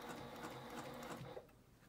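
A sewing machine stitches back and forth on a soft lovie, giving a brief, faint, even whirr up close that tapers off at the end.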